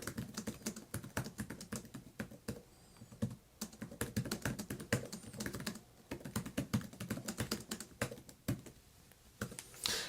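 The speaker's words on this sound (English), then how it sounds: "So let me go ahead and type in here." Steady typing on the keyboard folio of an e-ink tablet, a continuous patter of quiet, close key clicks with irregular rhythm, no voices.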